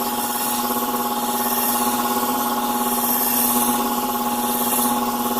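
Bevel edge shears are ground on a Katoku sharpening system while working up a burr, giving a loud, steady whirring hum that runs unbroken throughout with no voices.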